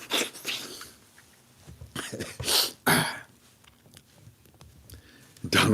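A voice imitates Donald Duck sneezing, giving several sharp, spluttering bursts spaced over a few seconds in a quiet indoor room, with soft breathy noises between them.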